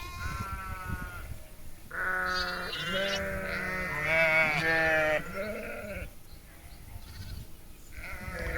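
A herd of sheep bleating on the way out to graze, several overlapping calls rising and falling close by over a steady outdoor background, with no talk.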